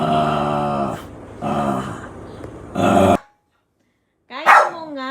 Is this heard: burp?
no